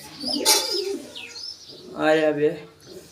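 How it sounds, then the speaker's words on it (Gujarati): Pigeon chicks grown from eggs in a home coop give soft, close coos and murmuring calls in two short bursts, with a little chirping between them. "આપણા કબૂતરના ઈંડામાંથી બધા નીકળ્યા છે અને તે હવે મોટા મોટા થઈ ગયા છે"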